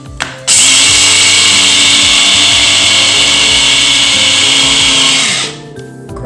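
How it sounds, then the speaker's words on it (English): An electric spice grinder whirs loudly and steadily for about five seconds, powdering toasted walnuts, starting abruptly and winding down near the end. "I use a spice grinder and put them in the spice grinder"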